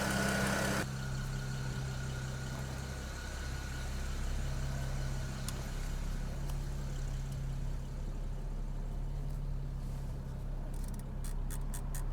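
A BMW 335i idling after sitting unused for a long while, its engine giving a steady, moderately loud low hum with a constant drone and a few faint clicks, running alone without talk.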